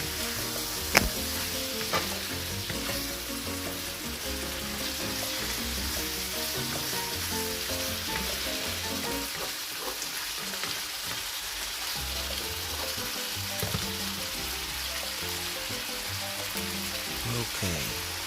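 Food sautéing and being stirred in a pan for tinola, a continuous close crackling sizzle over many seconds, broken by a sharp utensil clink early on and occasional scraping.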